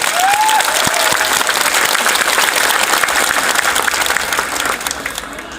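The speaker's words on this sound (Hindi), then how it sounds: "उनको बड़े हाथ से ताली देना चाहिए" Loud, dense applause from a large crowd at a political solidarity rally at Jantar Mantar, attended by an Aam Aadmi Party MP, sustained for several seconds before easing slightly at the end, with a brief whistle near the start.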